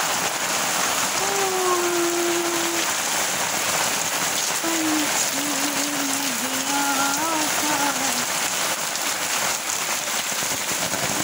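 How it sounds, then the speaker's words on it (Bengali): Heavy rain pours steadily on surfaces in Malda town, a dense continuous hiss from start to finish, while faint tonal sounds, like a distant horn or voice, drift through the middle. "সর্বনাশ, এত বৃষ্টি যদি হয় তাহলে কী হবে"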